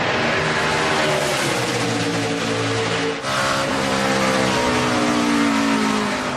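Race cars in a Bucyrus 200 race roar past on a track, engines revving loudly with a brief dip mid-way as one car passes, then continuing at full throttle; no voices.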